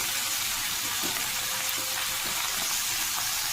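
Banana flower curry with potato and prawns fries steadily in a pan, a continuous close sizzle with soft stirring scrapes and no talking.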